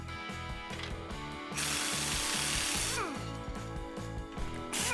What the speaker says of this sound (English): Begin removing the driver's side U-bolt plate by removing these 4 nuts and washers